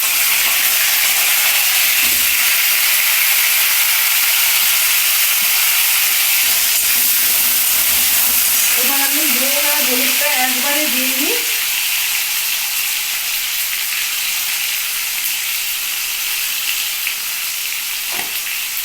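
Potatoes tipped into hot oil in a pan that already holds cumin seeds for a spiced aubergine and fenugreek curry, giving a steady loud sizzle and hiss throughout, with a brief bubbling burst partway through.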